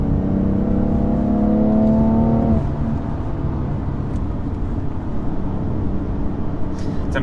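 A BMW M3 with the Competition Package accelerates, its engine note climbing loudly through the revs before easing off into steady road and wind noise from inside the car.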